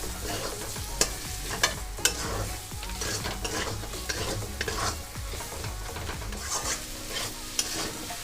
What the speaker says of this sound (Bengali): এইবার আমি মশলার সাথে একসাথে ডিমটাকে কষে নেব